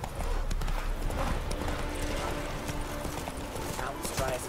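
Hooves of Roach, Geralt's horse in The Witcher 3, a steady rapid clip-clop of a trotting horse close by, continuous and fairly loud, with a brief spoken line over it.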